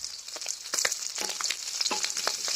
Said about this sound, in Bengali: এই মরিচটা ভাজতে বেশি সময় লাগবে না, কারণ গরম তেল তো।